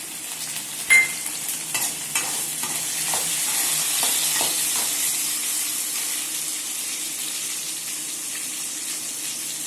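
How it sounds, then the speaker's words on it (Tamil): Onions and tomatoes sizzling and being stirred in a pan for chicken kulambu, a steady hiss of frying with scattered clinks and scraping near the start, close and continuous, no talking. "அடுத்தது தக்காளியை போட்டு நல்லா வதக்கணும்."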